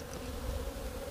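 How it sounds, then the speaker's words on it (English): Honey bees swarm around their hives on a warm late-winter day, giving a steady low buzzing hum that stays even and fairly faint throughout. "There are bees flying everywhere."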